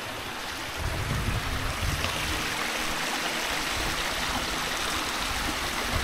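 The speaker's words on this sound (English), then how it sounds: "And I can hear a river." A river running through storm-damaged woodland on the Isle of Arran, a steady broadband rush of flowing water that swells slightly after the first second and stays even throughout.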